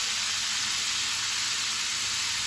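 Steady, fairly quiet sizzling of brined chicken wings frying in hot oil under a lid, a continuous bright hiss with no talking.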